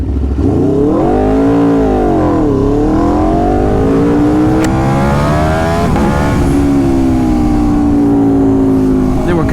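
An Aprilia RSV4 motorcycle fitted with an SC Project CR-T exhaust revs loudly and close, its pitch rising and falling in several swells with a raspy, harmonically rich roar.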